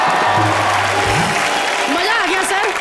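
A studio audience at an Indian TV comedy show claps loudly, a dense burst of applause mixed with a voice and some music tones over the short stretch.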